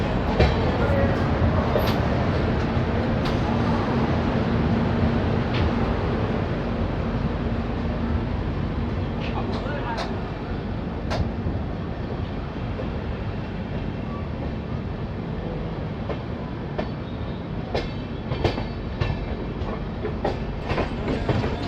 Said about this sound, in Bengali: ফাইনালি বর্ধমান স্টেশন ছেড়ে ট্রেন বেরিয়ে যাচ্ছে